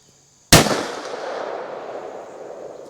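A single sharp gunshot from a .357 Magnum revolver with a 2-inch barrel firing CorBon Glaser Pow'RBall ammunition, loud and close, with a reverberant tail fading over a couple of seconds.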